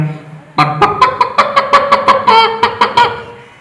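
A performer's voice imitates chickens clucking, as hens kept at home sound, in a mimicry act at a state school arts festival: a burst of sharp, rhythmic clucks in a steady series, loud and close, with no other sound.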